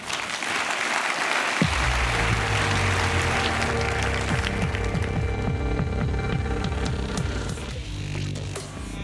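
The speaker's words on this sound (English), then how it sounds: "now please give a round of applause to Alexander Schlaubitz" A convention audience applauds in front of a forum stage: steady, full clapping from a large crowd sustained for several seconds, gradually thinning toward the end.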